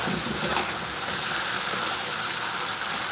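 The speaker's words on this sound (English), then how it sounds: "Some of this same water, we're gonna put some in this." Water poured into a cooking pot, a continuous loud rushing hiss that stays steady and close for several seconds.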